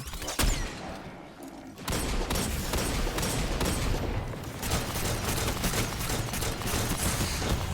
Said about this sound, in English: See, it's so many tracer shots.